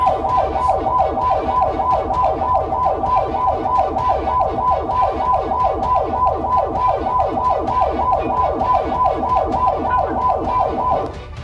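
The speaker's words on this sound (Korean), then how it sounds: "그래서 사이렌의 볼륨을 최고로 높였답니다" A loud, close ambulance siren at full volume wailing in a fast repeating up-down pattern, continuous and dominant from start to finish, briefly dropping at the very end.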